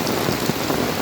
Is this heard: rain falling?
yes